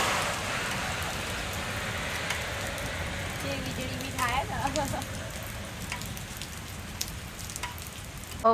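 Steady hiss of rain falling continuously, with faint voices briefly audible midway.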